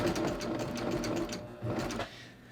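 A serger stitches over its own starting point on a jeans hem, a steady mechanical whir that runs loud for about two seconds, briefly dips mid-run, then cuts off into quiet.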